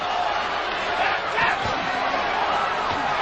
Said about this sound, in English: The crowd trying to urge Holyfield on.